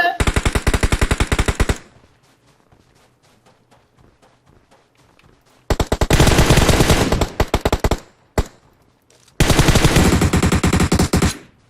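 Bursts of rapid automatic gunfire from a multiplayer shooter video game, loud and close, in three long sustained volleys separated by quiet stretches with faint footsteps.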